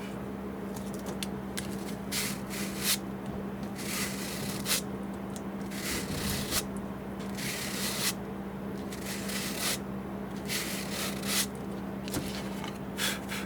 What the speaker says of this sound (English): Sand it off.